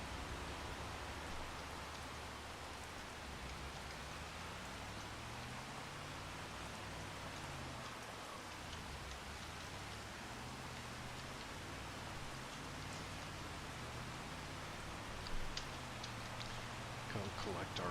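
Rain falls in a farming simulator game, a soft, steady hiss of pattering drops over low background music and a faint voice, continuous and quiet throughout.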